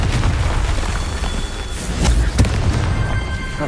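Blasting Confringo spell in Hogwarts Legacy, a booming explosion with a sharp burst near the middle over a dense, loud rumbling game soundscape, with no voice.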